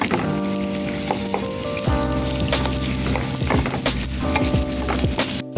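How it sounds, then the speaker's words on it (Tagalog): Onion and garlic sautéing in a pan, a loud continuous sizzle with spatter crackles and scraping stir strokes, close up, with a steady hum underneath and no talking. "Sabay na lang natin paglunod ang sibuyas at saka bawang."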